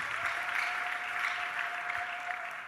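A church congregation applauding during a sermon, with steady, dense clapping from a crowd that continues throughout.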